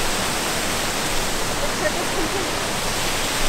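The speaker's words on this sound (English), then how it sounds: "are we fixing to walk under a real waterfall right now?" Real waterfall near Greenville, a loud, dense, unbroken rush of falling water heard from close by, with faint voices barely showing beneath the roar.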